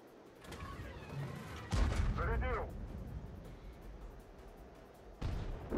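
Artillery cannon fire from a B-C 155 58 self-propelled gun in World of Tanks, with a heavy boom near 1.8 seconds and another near 5.2 seconds, each rolling out over a quieter ambient battlefield bed.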